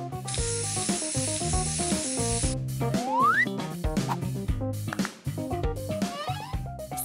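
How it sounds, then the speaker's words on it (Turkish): A loud, steady hiss of spray paint from an aerosol can sounds close up for about two seconds at the start, set against a busy musical backing that carries on afterward. "Spreyle boyayalım."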